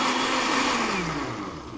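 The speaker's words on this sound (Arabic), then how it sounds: "ميزه الخلاط ده ان انت اما يكون في حاجه ناشفه تدوسي يشتغل، تدوسي يشتغل كده" Kitchen blender whirring steadily and loudly in a home kitchen, a continuous motor drone that dips slightly in pitch near the end as it keeps running, with no talking.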